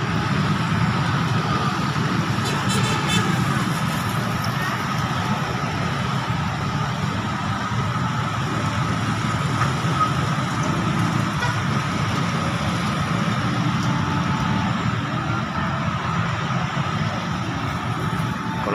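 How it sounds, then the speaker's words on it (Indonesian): Busy Saturday night street traffic at a junction in Kisaran, with many cars, trucks and motorbikes passing in a steady, continuous engine rumble, near and loud, with no talk. "Banyak kendaraan hilir mudik ini teman-teman ya"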